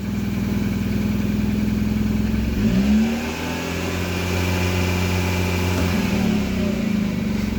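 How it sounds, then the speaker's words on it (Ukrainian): The engine of a Chana Benni car under repair for a rough, misfiring idle revs up as the gas is pressed, then settles back to a steady idle drone, loud and close. "дивися сюди, я зараз на газ нажму"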